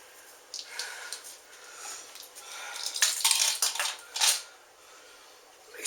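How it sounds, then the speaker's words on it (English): A heaping tablespoon of salt is scraped and tapped over more than five pounds of cut cabbage for sauerkraut, giving irregular close metallic clinks and gritty scrapes with no talking. "So we're going to put a tablespoon of salt in it right now."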